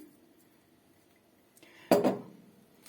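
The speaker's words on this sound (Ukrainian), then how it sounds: "Додаю півлітрову баночку сахару. Засипаємо сюди." Sugar tipped from a half-litre jar into a saucepan holding milk, heard as a single short, grainy rattle and clink after a near-silent stretch.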